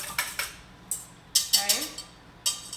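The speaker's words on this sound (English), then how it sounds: "we're gonna whisk them up." Metal whisk clinks sharply against the sides of a bowl while whisking ingredients for sweet corn and ricotta raviolo, quick irregular taps close by in a quiet kitchen.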